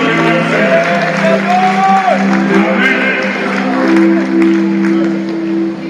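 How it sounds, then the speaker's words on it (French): Wedding guests at a church ceremony applaud and cheer, a lively mix of clapping, whoops and shouts over sustained tones, while a voice speaks within the noise. "Sous vos acclamations"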